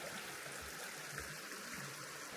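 A small creek called Powder Creek runs through a shaded campground, giving a steady, soft wash of flowing water throughout with faint low thumps and no voices.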